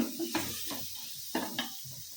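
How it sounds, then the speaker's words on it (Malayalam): Beaten egg poured into a hot pan with garam masala for a rice biryani, giving a soft steady sizzle with a few brief clinks and stirring scrapes, close and fairly quiet. "ഇനി നമുക്ക് ഇതിലോട്ട് മുട്ട ഒഴിച്ച് കൊടുക്കാം"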